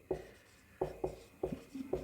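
Pen or chalk strokes during a maths lesson on joining two cubes, in short scratching bursts of about five quick marks spaced irregularly, close and quiet.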